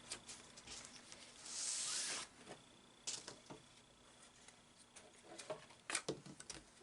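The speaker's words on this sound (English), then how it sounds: "we're just going to cut the tags off these Christmas trees." Tags being cut off felt Christmas trees: a few quiet, close snipping and rustling sounds come in short bursts against near silence.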